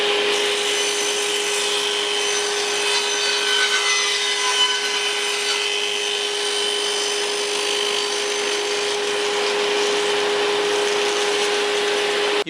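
A power saw makes the first cut through a wood panel on a panel cutting jig, cleaning up an edge with a loud, continuous whining buzz and a steady tone that holds evenly throughout.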